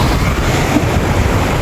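Ocean waves wash and churn at the shore in a steady, loud, close roar of surf and wind with no pause across the short stretch.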